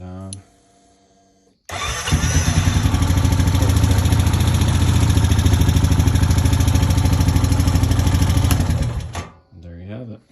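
A 2010 Honda Rancher 420 ATV cranks and catches, then idles loud and steady for about seven seconds before cutting off, with brief voices before and after.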